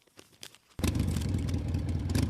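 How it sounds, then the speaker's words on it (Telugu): A motorbike engine arrives abruptly, rising into a loud, steady roar that fills the rest of the moment after a quieter start. "అది నిఖిల్ బైక్ సౌండ్ కదా?"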